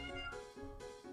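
A person imitates a cat's meow with two drawn-out, nasal meow-like calls, close and fairly quiet, with no other talking.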